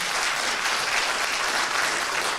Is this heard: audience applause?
yes